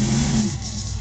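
A 410 cubic inch, 900 horsepower sprint car engine at a monster truck show in Dapto, a loud, rough low engine roar that eases slightly partway through, with no talk.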